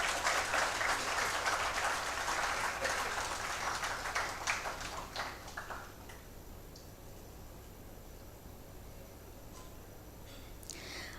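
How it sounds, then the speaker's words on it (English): Audience applause at a college orientation ceremony in an engineering college hall, a loud sustained round of clapping that fades after about six seconds into room quiet with a few stray claps. "Huge round of applause, please."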